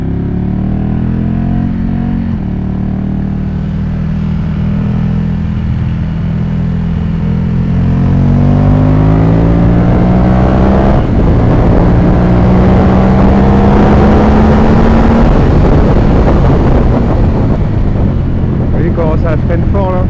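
Ducati motorcycle engine while riding: a loud, close, buzzing exhaust note that climbs steadily in pitch as it accelerates, with wind rush over the microphone.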